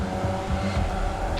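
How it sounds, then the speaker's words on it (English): A Formula Vee race car passes on the left during a race at Lime Rock, a steady engine drone heard from inside a neighbouring car's cockpit, continuous and moderately loud with no talk. "Car on your left."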